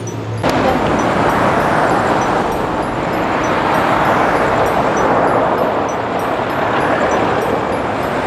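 Steady wash of road traffic near the Suramadu Bridge, cars streaming past continuously at moderate distance with a constant broadband roar and no talk.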